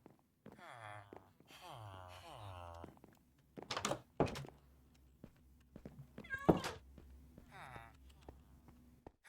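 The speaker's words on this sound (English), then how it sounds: "Oh, a cat spawned!" A cat in the Minecraft video game meows several times in short rising calls, with spoken talk and a few dull thunks between them.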